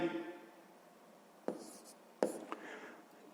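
Pen on paper during a sixth-grade math exercise, quiet faint scratching with a couple of sharper taps and short strokes after a moment of near silence.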